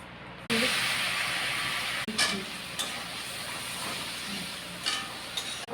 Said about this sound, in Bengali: পোস্ত দিয়ে বেগুন ভাজা নতুন একটা রেসিপি